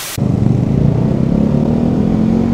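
Motorcycle engine droning steadily and close after an abrupt start, a continuous low hum held throughout with no talk over it.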